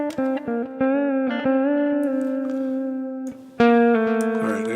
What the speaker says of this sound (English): I also have some reverb and delay